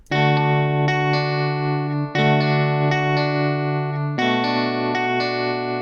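A bright, sustained electric guitar software-instrument preset called Austin Sunset plays three long chords, each struck and left ringing with heavy effects and shimmer.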